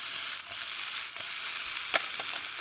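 Food sizzles and fries in a pan at a hammock campsite, a steady bright hiss with a few soft clicks from stirring, close and without talk.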